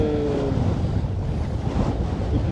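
Wind and sea waves wash around a sailboat under way off the Iroise Sea near Roscoff, a steady, close, breathy roar with low surging swells and no talking.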